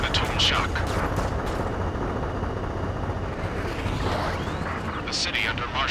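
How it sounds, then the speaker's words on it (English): Gunfire and roaring jet aircraft over a city under martial law in the video game Ace Combat 7, a loud, continuous rumble with jets sweeping past near the start and again near the end. "Gunfire and the roar of jets echoing through the streets."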